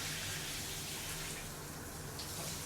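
A hotel rain shower runs with a soft, continuous hiss of falling water spattering at moderate distance, steady and even with no voices.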